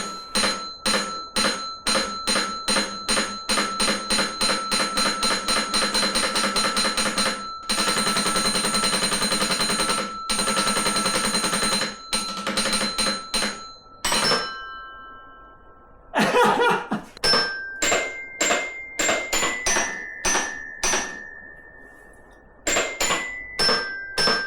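Electronic-sounding bells plunk out a fast, rushed, slightly out-of-tune rendition of We Wish You a Merry Christmas, a dense run of rapid strikes that breaks into sparser, uneven notes with pauses before resuming.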